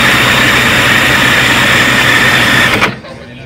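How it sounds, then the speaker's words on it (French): A Formula 1 three-seater car's V10 engine is cranked by an electric starter, a loud, steady mechanical whine and drone that cuts off abruptly near the end. "le mécano vient d'embrancher sur l'embrayage la prise coupleur électrique et va donc pousser le moteur V10 dans quelques instants au démarrage."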